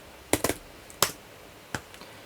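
A few separate keystrokes on a computer keyboard while terminal commands are entered: four sharp, close taps spread irregularly, with quiet gaps between them and no talking.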